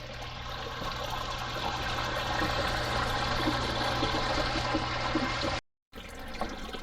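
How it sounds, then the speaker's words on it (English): Water trickles and splashes steadily into a basement sewage ejector pump basin for a Zoeller M267 pump, a continuous liquid wash heard up close, broken by a brief cut to silence near the end. "You can hear it trickling in."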